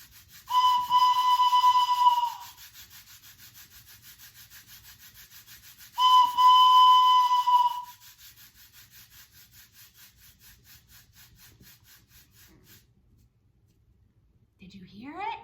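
A hand-held whistle imitates a train slowing down and speeding up, giving two long, loud, steady toots about four seconds apart, followed by a faint, quiet stretch and a brief rising squeal at the end.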